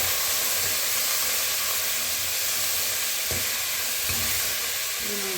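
Chopped, washed brinjal tipped into a hot pan for sambar sets off a steady, loud sizzle and hiss of frying, with a couple of soft clunks of stirring partway through.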